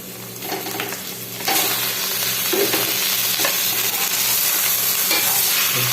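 Fresh chicken breast frying with garlic in a pan for Filipino chicken tinola, a loud, close, continuous sizzle that swells after the first second, with scraping stir noises and no speech.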